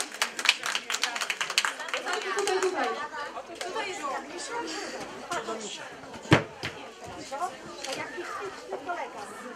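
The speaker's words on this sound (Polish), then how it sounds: "Wielkie brawa." A brief burst of clapping at a library teddy bear exhibition prize ceremony fades into lively crowd chatter and children's voices, with a sharp knock partway through.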